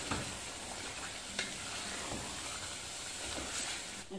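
Meat masala with green chillies, coriander and mint frying over a high flame for do pyaza, a steady close sizzle with a few sharp scrapes of stirring and no talking.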